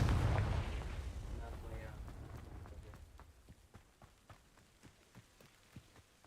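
A Confringo spell explosion in a video game opens with a loud, deep blast that slowly rumbles away, followed by a string of faint crackling pops like embers.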